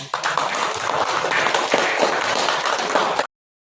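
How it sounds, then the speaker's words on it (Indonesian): Students in a classroom clap their hands, a dense, steady burst of claps lasting about three seconds before stopping abruptly. "Tepuk tangan."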